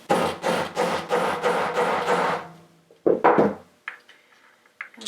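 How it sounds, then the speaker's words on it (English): A hammer drives a snap fastener together on a small board with a quick run of about seven even, solid knocks, then a pause and a couple of heavier blows followed by faint clinks. "Now it's just a matter of hammering it all together"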